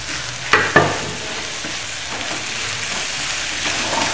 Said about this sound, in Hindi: अब हम इसमें हमारा ये बारीक कटा हुआ टमाटर डालेंगे